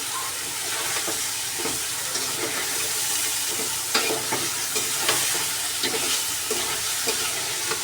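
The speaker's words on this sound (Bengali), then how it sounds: "করলা ভাজা বসিয়ে দিয়েছি।" Bitter gourd slices fry in oil with dried red chilli, turmeric and salt: a continuous close sizzle and hiss, broken by repeated scraping strokes of a spatula stirring the pan.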